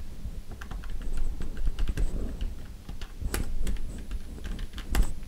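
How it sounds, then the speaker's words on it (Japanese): Keys of a CASIO ergonomic calculator tapped in quick irregular bursts, sharp close plastic clicks with a faint background hum and no talking. "若干キーの音がでかいわけですよ。"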